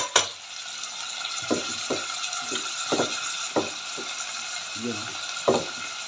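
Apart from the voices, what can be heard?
bitter gourd sautéed with garlic and onion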